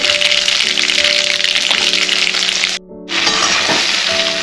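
Sesame seeds and cabbage muthiya dropped into hot tempering oil, giving a loud, steady sizzle and crackle that fills the whole stretch, with one brief dip partway through.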